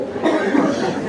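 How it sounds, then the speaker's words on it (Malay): A single short, loud cough close to the microphone during a Maulid Nabi gathering. "Tu mencelik jam tu batuk je."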